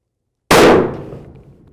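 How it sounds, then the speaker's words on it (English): A single loud, close gunshot from a Browning X-Bolt 2 Speed hunting rifle chambered in 6.8 Western cracks out at a shooting range, followed by a decaying boom that fades over the next second. "let's send it 3 more times, shoot another group"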